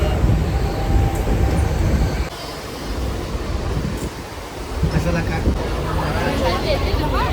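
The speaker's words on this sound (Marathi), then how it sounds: "आता आम्ही आहोत लोकल ट्रेनमध्ये." Loud, rumbling interior of a moving Mumbai local train, with rattling carriage noise throughout and indistinct voices mixed in.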